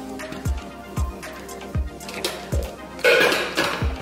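Pasta chips being tossed with salt and seasoning in a bowl, giving a series of close, regular clinks and scrapes against the dish about every half second, ending in a louder rustling burst.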